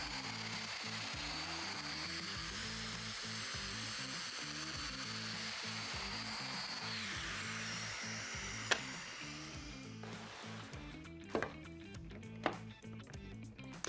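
Woodworking mortising machine cutting mortises in outdoor table boards, a steady loud mechanical drone with rhythmic pulsing chops, ending in a few sharp knocks as the boards are handled.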